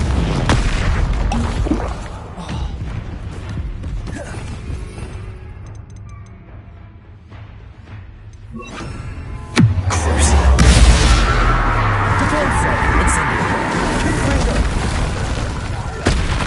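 A Confringo fire spell goes off in Hogwarts Legacy with a heavy, booming blast about midway. Other spell effects crackle and rumble loudly throughout, and a deep roar trails the blast.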